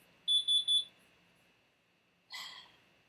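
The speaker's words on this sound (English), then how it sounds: "which is why the alarm keeps going off." Faint household alarm, three quick high-pitched beeps in a row, followed after a pause by a brief soft rustling burst, in a quiet indoor room without speech.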